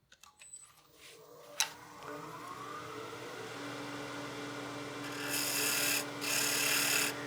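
Skew chisel taking peel cuts on soft spalted wood spinning on a lathe, a low motor hum with a steady scraping rasp that builds and turns louder and brighter near the end, close up.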